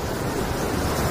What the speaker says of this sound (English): Ellum, this is how we get over your fear of the ocean